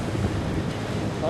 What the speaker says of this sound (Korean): 파도 온다, 파도. 조심해라.